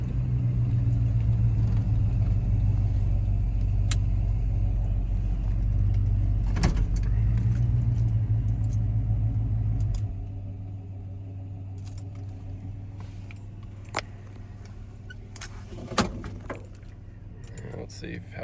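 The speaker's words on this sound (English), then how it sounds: "see if I can turn it off and restart it. See how it cranks." A 1990 Ford F-250 with a 5.8L engine idles with a loud, low rumble, then cuts off after a jangle of keys, leaving a quieter stretch with a few clicks and a brief knock near the end.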